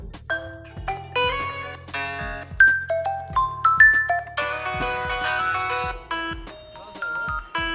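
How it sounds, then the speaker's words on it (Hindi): A Redmi Note 8 phone plays its ringtone aloud, a bright melodic sequence of chiming tones and tinkling notes with a soft bass pulse, moving through a lively tune for several seconds. "यहाँ पे मैं आपको बजा के दिखा देता हूँ रिंगटोन"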